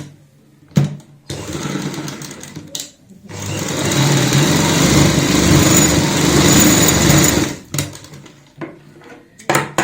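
A sewing machine stitches across a buckram-backed kurti neckline in loud, close bursts: a few short runs, then one long sustained whirring run, ending with brief clicks and stops.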